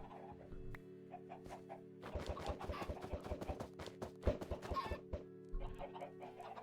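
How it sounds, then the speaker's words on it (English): Chickens clucking in modded Minecraft 1.12.2, a quick series of short, close clucks over a steady low background hum, pausing briefly before another burst near the end. "Let's see if we can get a couple more chickens."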